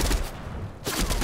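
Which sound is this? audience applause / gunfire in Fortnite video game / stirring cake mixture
gunfire in Fortnite video game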